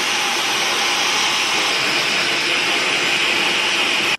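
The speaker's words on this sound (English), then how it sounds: "I'm just gonna give my hair a quick whiz with the hairdryer." Loud, steady whooshing roar of a hairdryer blowing close by without a break, cutting off abruptly at the very end.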